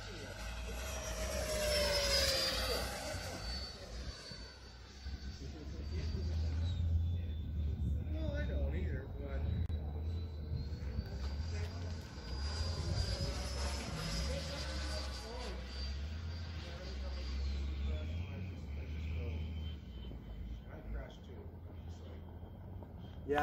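A Freewing T-33 RC jet with an HK 1850kv ducted fan flies overhead, its high electric whine rising and falling as the model passes and banks, with outdoor rumble beneath and people chatting nearby.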